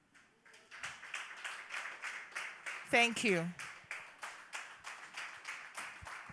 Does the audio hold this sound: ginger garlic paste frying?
no